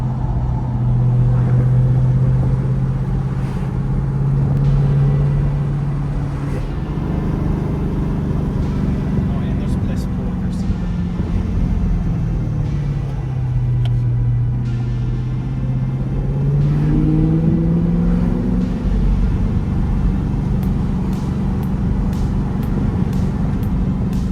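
A Chevrolet C8 Corvette climbs Pikes Peak at around 9,000 feet while crossing a reservoir dam, its engine a steady close-up drone whose pitch dips and rises with the throttle throughout.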